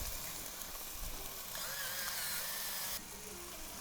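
Scallops searing in a hot pan over medium-high heat, a steady close hiss and sizzle that holds evenly throughout and brightens briefly before settling again.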